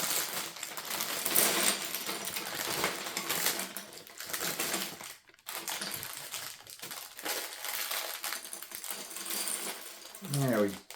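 Plastic Lego bricks are handled, rummaged and pressed together close up, giving dense rattling clicks and crinkling plastic in irregular bursts with a brief pause midway and a faint voice near the end.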